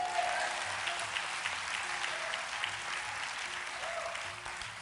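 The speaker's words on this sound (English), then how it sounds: "Clap your hands." Audience clapping hands during a motivational talk on facing a crisis: dense, steady applause fills the whole stretch at moderate loudness, with no voices over it.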